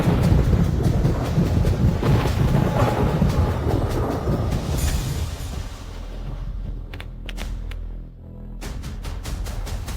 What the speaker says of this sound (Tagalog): Ano yun? Kumukulog.